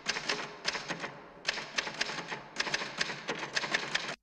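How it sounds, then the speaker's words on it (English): Typewriter keys clicking in bursts of rapid strikes with brief pauses, from a scene in The Shining miniseries, fairly quiet and close with no talk. "The clicking of his typewriter strings together a familiar sentence."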